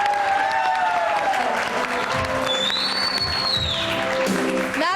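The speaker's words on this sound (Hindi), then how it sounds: "बस आई तालियां।" A studio audience on a TV cooking show breaks into steady, dense applause that carries on for several seconds.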